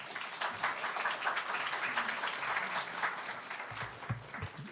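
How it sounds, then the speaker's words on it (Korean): A church congregation claps steadily in sustained applause during a Sunday service, fairly distant and even, tapering near the end. "목사님을 환영하는 의미로서 박수로 우리 맞이하도록 하겠습니다"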